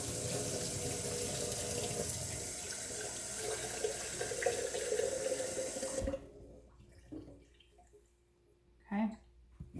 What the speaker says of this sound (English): And then we're going to put some fresh water in there.